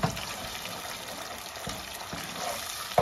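Food sizzles steadily in a pot as it is sautéed with salt for shrimp rice, a continuous faint hiss and crackle with a few soft clinks.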